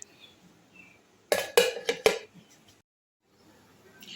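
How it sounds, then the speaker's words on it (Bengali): A wok goes onto a gas stove with a burst of metallic clanks and scrapes lasting about a second, preceded and followed by quiet kitchen stillness. "আমি গ্যাসের ওপরে একটা কড়াই বসিয়ে নিয়েছি"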